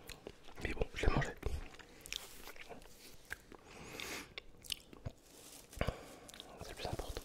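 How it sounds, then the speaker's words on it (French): Close, quiet mouth sounds of someone chewing and eating French charcuterie, including a pure-fillet saucisson, with soft wet smacks and bites scattered through whispered ASMR-style speech. "Je l'ai vite avalé. Mais bon, je l'ai mangé."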